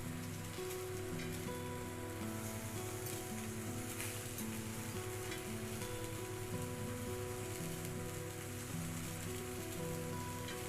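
Tuna pieces frying on a flat tawa give a steady, even crackling sizzle throughout, constant and fairly faint, with a low hum underneath and no talking.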